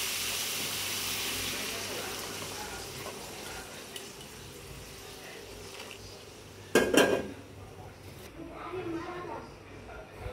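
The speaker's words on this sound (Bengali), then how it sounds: "এখন দিয়ে দেব গরম জল।" Hot water poured into a pot of fried chicken khichuri, a sudden loud splash and sizzle rising out of steady kitchen clatter, then easing back to a low simmer.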